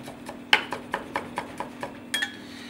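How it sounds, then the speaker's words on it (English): Garlic cloves being chopped with a knife: a quick, even run of about a dozen light, crisp taps, close by and fairly quiet, with no voices. "I've got a couple of cloves of garlic here. I'm just going to chop these up"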